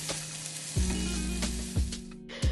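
Onions, mushrooms and spinach sizzle loudly in a pan, with a bright constant hiss and a few heavy scraping stirs near the mic, with no talk.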